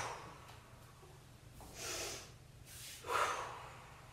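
Breath sounds during a traditional pilates mat class: two audible airy exhalations, the second stronger, heard close up with no talking.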